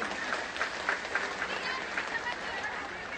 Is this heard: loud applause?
yes